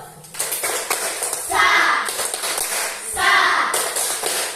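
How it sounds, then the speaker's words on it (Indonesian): A school class claps out a rhythmic salute cheer in a classroom, bursts of patterned clapping between children's voices calling out. "Tepuk salut"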